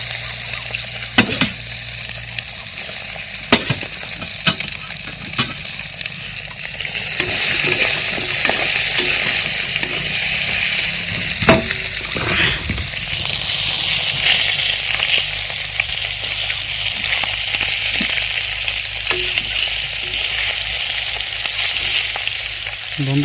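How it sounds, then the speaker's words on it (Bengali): Kalbaush fish frying in a pan, a continuous bubbling sizzle with intermittent stirring scrapes and clinks, growing louder and denser after the first few seconds. "মাছ বন্ধুরা ফুটতেছে।"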